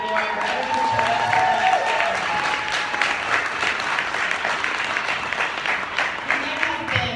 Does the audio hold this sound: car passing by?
no